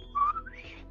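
A single person whistles a slow, drawn-out tone that wavers and slides upward, close and clear with no talking.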